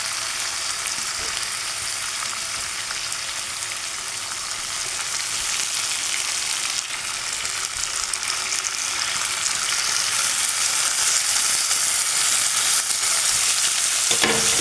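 Tomato pieces fry in a hot pan with a steady, dense sizzle that grows slightly louder over time, with occasional stirring and no voices.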